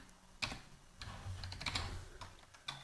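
Keystrokes on a computer keyboard while typing a PHP tag: a handful of sparse, soft clicks and taps spread over a few seconds, close but quiet, with no speech.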